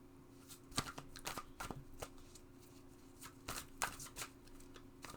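Tarot cards being shuffled up close, a series of quick riffling bursts and soft slaps that come in uneven clusters, fairly quiet, with no talking.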